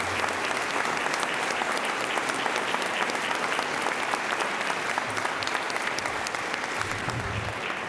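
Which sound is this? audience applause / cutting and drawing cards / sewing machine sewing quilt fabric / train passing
audience applause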